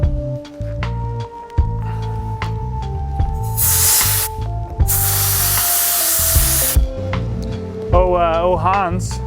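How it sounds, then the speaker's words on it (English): A compressed-air blowgun fires two strong bursts in a scooter build shop, loud broadband hissing blasts of a couple of seconds each, with music playing underneath throughout. "Hans, do you want to run the blowgun or do you want to run the grip"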